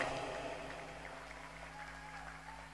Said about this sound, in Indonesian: Tepuk tangan untuk Panglima LS.